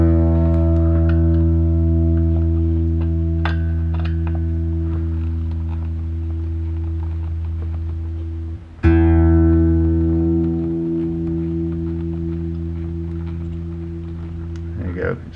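An electric guitar string being tightened sharp toward its breaking point during an intonation setup, ringing as a sustained harmonic tone that rises in pitch, with a brief dropout near the middle before the note sounds again.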